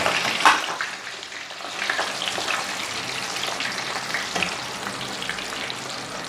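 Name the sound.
french fries deep frying in oil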